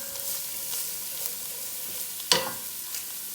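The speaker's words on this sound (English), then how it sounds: "And you're going to give it a quick stir." Soup ingredients being stirred in a pot, a soft steady sizzle with light scraping and one sharper knock of the spoon partway through, close and without voices.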